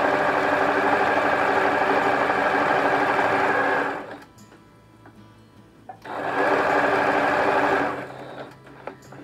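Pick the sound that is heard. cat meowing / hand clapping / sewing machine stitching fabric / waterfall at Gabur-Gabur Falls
sewing machine stitching fabric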